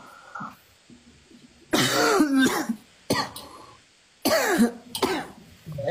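Three harsh, close coughing bursts with throat clearing come in quick succession, with short quiet gaps between them.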